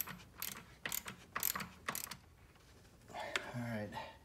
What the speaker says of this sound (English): So I'm just going to tighten this one down